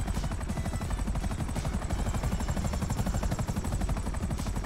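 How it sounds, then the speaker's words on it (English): A helicopter in the GTA 5 video game hovers close by, its rotor giving a fast, steady chopping pulse that runs loud and unbroken throughout. "That was not my helicopter."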